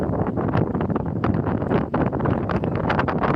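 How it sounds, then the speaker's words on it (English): Strong gusty wind on Fenit Pier buffets the microphone continuously, a loud roaring rumble with no other clear sounds. "It's windy as anything here today."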